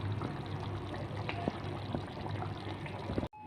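Water is poured into a tamarind and salt kuzhambu curry made with roasted coconut and onion, giving a steady close-up splashing hiss that runs almost the whole time before a sudden brief cut.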